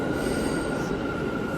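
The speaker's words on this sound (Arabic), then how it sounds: "القطار، وأخيرا وصل القطار" New York subway train to JFK airport pulling into the station: loud, steady wheel squeal with a sustained high metallic whine over a heavy rumble, close and continuous.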